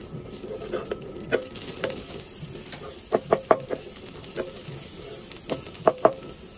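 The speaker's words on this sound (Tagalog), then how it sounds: "naglagay tayo ng kunting mantika, kunting-kunti lang po at saka natin ginisa ang ating sibuyas" Chopped onions sauté in a small amount of oil in a pan for a garlic prawn dish. A soft sizzle sits under repeated scraping strokes of a spatula, clustered in quick bursts.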